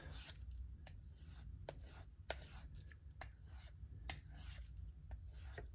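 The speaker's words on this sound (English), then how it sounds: "Give it a quick pass on this strop." A knife edge drawn across a leather strop after sharpening, a faint close series of soft rasping strokes with sharp little ticks at the end of each pass.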